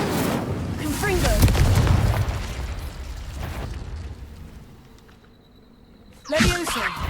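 Confringo explosive spell from Hogwarts Legacy bursting in a loud boom, rumbling and fading over several seconds before a sharp new crackling hit near the end, with voices in the game mixed over it.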